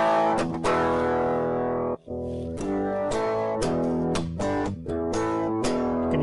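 A heavily distorted electric guitar plays loud, sustained chords through an iPB 10 programmable pedalboard, with tone shifting between short phrases as distortion settings change and one brief gap near the start.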